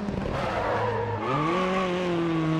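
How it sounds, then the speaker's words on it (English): A race car in the Grid Autosport touring league brakes hard, and its tires squeal loudly up close while the engine note climbs steadily through the skid, with no talking. "Heavy braking."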